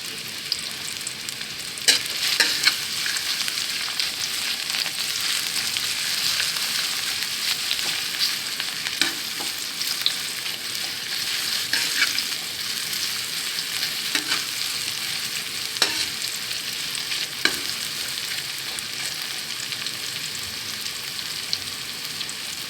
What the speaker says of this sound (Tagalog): lagyan natin ng mantika, and then igisa natin yung onion